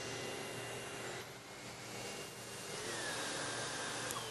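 A SEBO Felix Premium upright vacuum cleaner runs steadily while picking up simulated pet hair, giving off a continuous even whooshing drone that stays fairly quiet throughout, with no talking.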